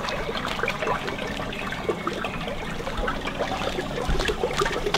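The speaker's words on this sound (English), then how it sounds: "Oh, look at that first leak." Water leaking out of a chainsaw bag filled with water: a continuous close trickling and splashing that runs steadily without a break.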